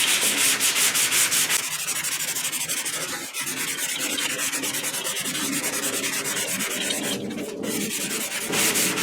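Primer being sanded on 1969 Mustang fender extensions during front-end body work: steady, close abrasive rubbing strokes that run continuously with brief changes in direction, and no talking.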